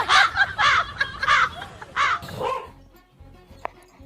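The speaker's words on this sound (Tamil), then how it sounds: "அந்த திருட்டு வேலையை பாக்குறது காக்காதான்" A crow caws at rice set out for a dog in a home comedy skit: about five loud, harsh caws in quick rhythmic succession, then fainter calls and a sharp click as it quiets.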